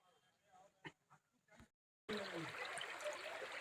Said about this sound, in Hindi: तो ये वही कल बहती सोनझरी नदी है